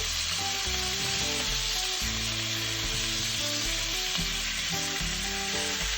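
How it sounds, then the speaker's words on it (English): Belly pork frying in a pan, a constant dense sizzle and crackle held steady throughout, close and loud, with a low humming tone running underneath. "So we will just fry it until it's a little bit brown."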